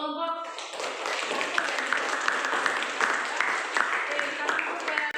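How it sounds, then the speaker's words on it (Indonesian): A classroom of students claps for a presenting group after a chemistry lesson on electrolyte solutions, brisk continuous clapping from many hands close by, with a voice briefly heard at the start. "Oke, tepuk tangan untuk kelompok"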